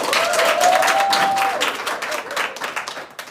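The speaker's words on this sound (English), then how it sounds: "So give her a round of applause" An award-ceremony audience gives a round of applause, a dense close wash of clapping that stays loud for a couple of seconds and then thins and fades, with a brief tonal whistle near the start.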